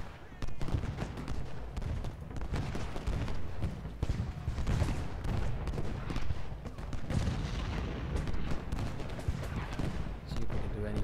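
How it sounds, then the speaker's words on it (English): Artillery and massed musket fire in the Civil War strategy game Ultimate General: Gettysburg, a dense continuous rumble of overlapping booms and crackling shots with no break, fairly loud throughout. "They're using their artillery though, that's a problem."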